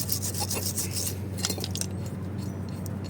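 A wire wheel scrubs crusty brake caliper bolts during a front brake job on a Kia Sorento. It gives a close, steady, harsh rasping scrape over a low continuous motor hum, with no talking.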